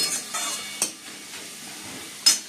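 Potatoes and onions frying in a pan, a soft steady sizzle broken by a few sharp clacks of a spoon or spatula stirring against the pan, close and fairly quiet.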